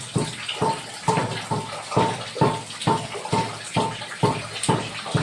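Heavy monsoon rain pours down in a loud, close, rushing wash of water that pulses in a steady rhythm, during flooding, with the house roof leaking.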